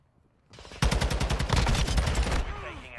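Rapid automatic gunfire from a TAQ 56 rifle in Call of Duty ranked play. A dense, loud, close burst of rattling shots runs for about two seconds after a short lead-in.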